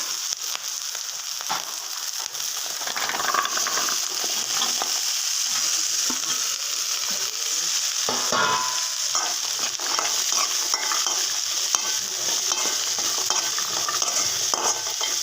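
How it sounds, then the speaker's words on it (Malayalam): Jackfruit seeds stirred into frying onions in a pan, giving a steady close sizzle with scraping and clattering stirs throughout, with no talking. "നമുക്കിനി ഇതിലേക്ക് ചക്കക്കുരു ചേർത്ത് കൊടുക്കാം."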